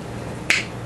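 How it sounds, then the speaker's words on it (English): A jar of strawberry preserves pops open with a single sharp, close snap, standing alone against a quiet background. "That popping sound's good."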